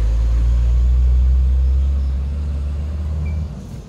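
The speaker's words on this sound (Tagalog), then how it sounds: "Big truck!" A big truck rolls past on a rural farm road with a heavy, loud low rumble that holds strong and then fades away as it moves off.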